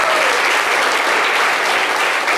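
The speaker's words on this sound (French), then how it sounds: "qui va s'applaudir bien fort" A studio audience on a French-language talk show bursts into loud, dense applause, a continuous close wall of clapping from start to finish.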